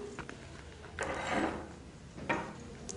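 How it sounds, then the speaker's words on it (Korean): Needle and thread are drawn through leather while hand-stitching a passport case, making two close, soft rasping pulls, one longer and one shorter, each with a faint tug at the end in a quiet room. "다시 그 2번 바늘을 그대로 그 다음 구멍으로 들어가요. 자, 쭉 빼고요."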